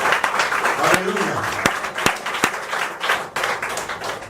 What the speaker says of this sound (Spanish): ¿Por qué no le damos un aplauso al Señor y a su palabra?